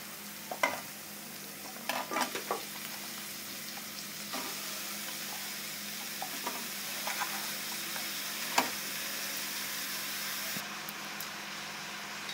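Vegetables being stirred into fried ground shrimp paste for a mixed vegetable curry, a low steady sizzle with scattered scraping knocks of a spatula against the pan, close and fairly quiet, no voices.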